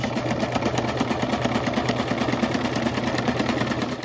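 A sewing machine stitching fabric for a homemade lunch tote, a fast steady mechanical whirring hum with rapid regular needle clatter, loud and close throughout with no voices.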